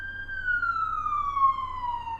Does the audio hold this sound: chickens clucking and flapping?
no